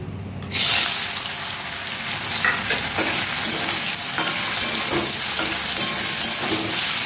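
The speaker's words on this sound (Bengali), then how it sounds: "আলুগুলো ভেজে নিয়ে ফিরে আসছি, লাল করে ভেজে নেবো" A loud burst of sizzling begins abruptly as cut potatoes drop into hot oil, then settles into a steady crackling fry with occasional stirring.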